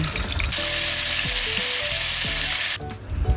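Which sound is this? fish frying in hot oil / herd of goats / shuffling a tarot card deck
fish frying in hot oil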